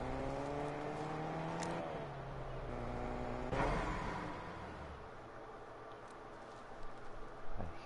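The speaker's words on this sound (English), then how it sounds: "I hear the car." A car in the Fortnite video game drives by, its engine whining and shifting pitch as it accelerates, with a sharp whoosh of passing midway and faint game sounds around it.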